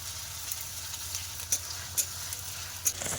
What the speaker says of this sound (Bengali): পেঁয়াজ কুচিটা দিয়ে নাড়াচাড়া করে নেব তারপরে দিয়ে দেব আদা বাটা রসুন বাটা